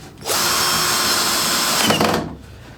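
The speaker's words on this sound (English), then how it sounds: "let's finish screwing the trim onto the bottom" A power drill drives screws to fix trim onto the bottom of an upcycled router table, giving a loud, steady whirring burst of about two seconds, close by and alone.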